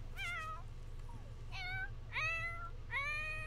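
Cat meowing in a life-simulation video game, four drawn-out, rising-and-falling meows at a steady pace, clear and close over a constant low background hum.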